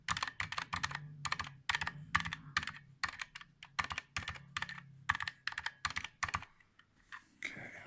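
Cherry MX Silent Red keyboard switches typed in quick bursts, each keystroke a crisp, slightly scratchy clack with a faint ping, close and alone without talk, pausing briefly near the end.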